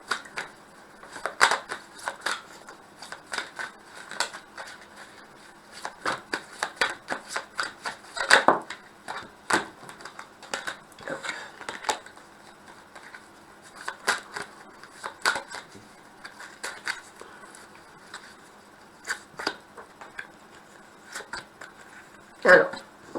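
Tarot cards being shuffled in bursts of crisp riffling slaps and taps, close and fairly loud, with pauses between runs and a voice speaking at times.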